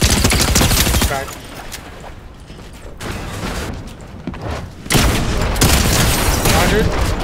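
Shotgun blasts in an online arena shooter, loud bursts of gunfire and booms at the start and again near the end, with quieter game action between and players talking over it.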